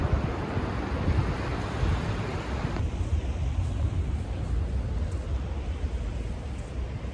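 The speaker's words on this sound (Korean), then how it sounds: "파도가 점점 가까이 들어오고 있어요. 이제 물이 들어오는 시간이에요." Waves roll in at a quiet winter beach on Anmyeondo as the tide comes in. A continuous, loud wash of surf mixes with gusts of wind, with no voices.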